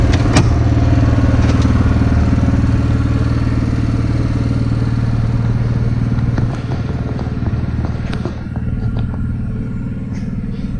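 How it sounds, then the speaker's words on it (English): Honda 6500 generator running in a shop, a loud, steady low engine drone with constant mechanical rumble and occasional faint clicks, dropping slightly in level partway through but never stopping. "Today I'm running the shop with my 6500 Honda generator."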